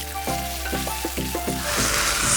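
Noodles hit a smoking-hot wok with a little oil for Thai rad na, giving a loud, close sizzle that swells as they spread and keeps crackling, with a tonal bed beneath and no voices.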